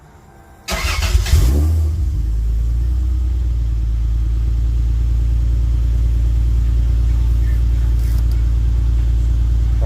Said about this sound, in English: Now you could test it by starting the car back up.